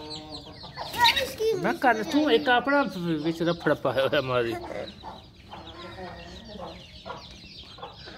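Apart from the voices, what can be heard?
hen and rooster clucking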